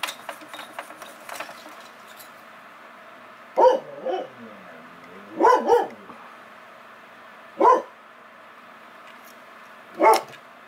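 A dog barks outside in four separate short bursts spaced a couple of seconds apart, moderately distant, over a low steady background hum.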